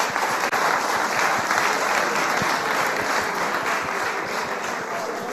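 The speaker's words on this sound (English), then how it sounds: "can we clap for her?" Audience applause at a boys' seminar, with loud, dense clapping from a group that continues steadily throughout.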